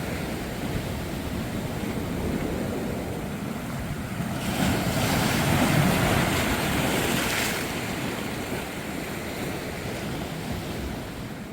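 Strong waves roll and crash against the rocky coast of the Homi Peninsula near Pohang, a continuous heavy roar of surf with a swelling surge midway, mixed with wind buffeting the microphone.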